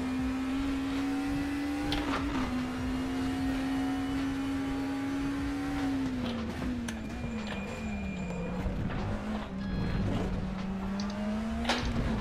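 Steady race car engine drone in RaceRoom, holding a near-constant pitch that dips slightly through a corner, with occasional thumps and clatter over curbs and no talking.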